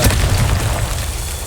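Confringo explosion spell cast in Hogwarts Legacy, a loud deep boom rolling across the whole short moment, close and heavy with no voice over it.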